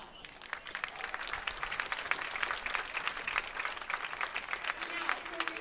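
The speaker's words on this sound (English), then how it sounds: "can we give our 2024 homecoming a round of applause?" A crowd at a high school football game applauds the 2024 homecoming court with sustained, dense clapping and cheering.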